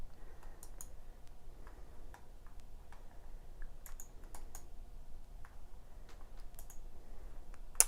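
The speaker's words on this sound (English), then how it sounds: "You got to listen to me type on the keyboard and wonder, what's she doing?" Steady typing on a computer keyboard, quick light clicks in irregular bursts at close range in a quiet room.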